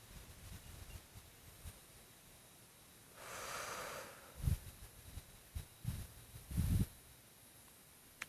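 A slow, deep breath taken during a yoga stretch for the neck and shoulders, a soft airy inhale swelling for about a second, followed by a few faint breathy exhales and snorts through the nose, close and quiet.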